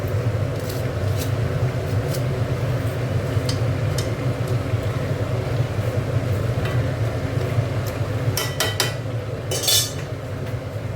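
Spinach greens hiss in a hot pan, a steady loud sizzle across the whole stretch, with faint clinks of a spoon stirring against the metal now and then.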